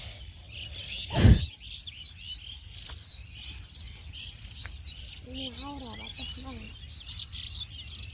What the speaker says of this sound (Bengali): আর পাখিতে চারিপাশে কিচির মিচির করে বানছে